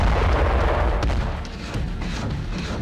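Heavy artillery fire in the Russia-Ukraine war near Zaporizhzhia, a dense, loud rumbling barrage with deep booms and a few sharper thuds rolling continuously.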